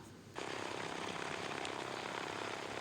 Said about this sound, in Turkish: Evet şimdi uçağımızı sürüyoruz bu şekilde herhalde evet.